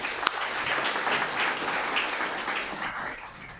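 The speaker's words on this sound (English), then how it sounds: "So give ourselves a big round of applause together." A crowd applauds steadily, a dense patter of many hands clapping together for a few seconds before tapering off slightly at the end.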